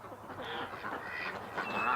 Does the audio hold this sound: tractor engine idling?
no